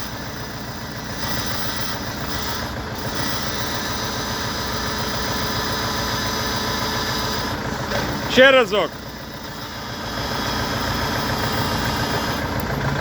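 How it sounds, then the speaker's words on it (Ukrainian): An Orion RF404 tractor engine idles steadily with a low mechanical drone, briefly interrupted by a short squealing whine, while someone speaks over it. "Ось такий тракторець з примусовим опусканням гідравліки."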